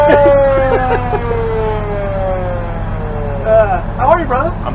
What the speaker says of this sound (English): Where's the siren break? There it is.